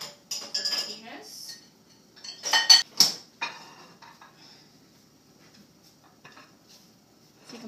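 Dishes and cutlery clinking and clattering while a dishwasher is loaded, several sharp bursts of clinks in the first few seconds, then near silence with faint scattered taps.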